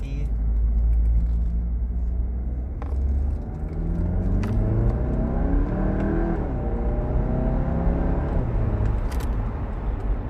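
A VW Golf 8 GTI engine revs up and pulls hard, a steady rising drone with climbing harmonics over about ten seconds, close and fairly loud.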